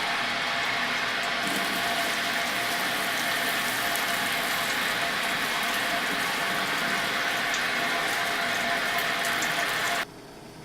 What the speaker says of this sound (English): Begin adding the sparge water a little bit at a time.